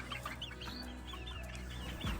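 Chickens cluck and fuss inside a chicken tractor, steady close overlapping clucks and squawks filling the whole stretch with no talk.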